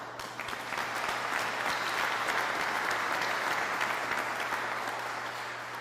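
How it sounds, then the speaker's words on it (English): Steady applause from an audience thanking the Waterworks team at an event marking completion of the Lake Michigan water project to Waukesha, dense clapping sustained at even loudness throughout with a low hum beneath. "Please give them a round of applause"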